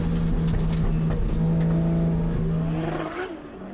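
A drift car of over 1000 horsepower slides through a corner at the Nürburgring Drift Cup, its engine roaring loud and sustained at high revs, then dropping away as it eases off near the end.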